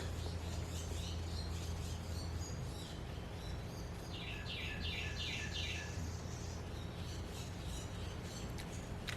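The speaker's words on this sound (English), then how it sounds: "Just birds frolicking around me" Birds chirp and twitter close by in a quick burst of bright calls partway through, over a steady low hum and rustling background.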